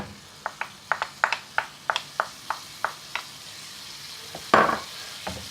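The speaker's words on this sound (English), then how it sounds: "Give it a little bit of a stir." Chicken korma is stirred in a pan: a spoon scrapes and taps in about a dozen quick, regular strokes over a low sizzle, ending in a louder scrape, close and without talk.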